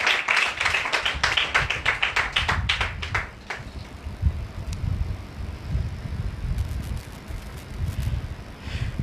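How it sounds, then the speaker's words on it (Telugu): A church congregation claps in a quick burst of rhythmic hand claps for about three seconds, then the sound gives way to a noisy, murmuring room with a few scattered faint taps. "చప్పట్లు కొడతారా పరిశుద్ధాత్మునికి?"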